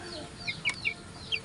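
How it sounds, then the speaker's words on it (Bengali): A hen sitting down to lay eggs gives a few soft, short clucks close by, spaced irregularly over a quiet background. "আর এখানে ডিম পাড়তে বইছে মুরগিটি"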